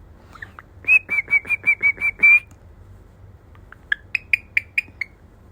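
A pet parrot named Mito whistles a tune, first a run of eight even, clear notes and then, after a pause, a faster string of short chirpy whistles, close and fairly loud in a quiet room.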